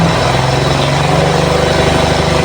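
A farm machine engine runs at a rice field, a loud, steady, low mechanical drone with a rapid pulsing chug that continues without a break, close to the listener.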